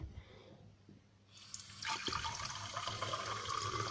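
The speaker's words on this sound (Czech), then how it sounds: "a nalijeme tam vodu" Tap water pours into a glass with a straw in it, a steady, close splashing fill that starts after a quiet moment and continues to the end.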